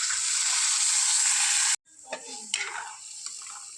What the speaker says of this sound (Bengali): গরম জল দিয়ে দিচ্ছি